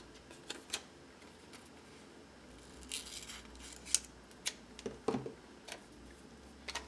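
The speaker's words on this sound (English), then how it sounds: "So we'll cut this in half like this." Scissors snip through planner stickers, cutting them in half: a few sharp, close clicks and crunching snips scattered over several seconds against a quiet room.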